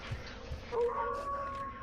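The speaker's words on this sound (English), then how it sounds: "That guy just howled." In the video game MistWorld, an enemy guard lets out a howl: a single sustained, wavering tonal cry of about a second, moderately faint, following a soft thud.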